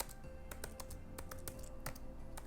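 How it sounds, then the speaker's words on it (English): Quiet, irregular clicking of fingers typing on a computer keyboard, a rapid scatter of key taps at close range over a low hum, with no one speaking. "This is actually gonna be a lot harder than I thought while typing this out."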